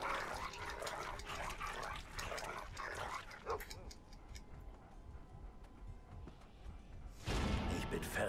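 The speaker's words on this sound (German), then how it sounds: "ist der Hund hässlich" Dog in the Game of Thrones video game on PS3, barking and whimpering in repeated bursts over busy game sound, with a voice talking at times, then a loud swell of noise near the end.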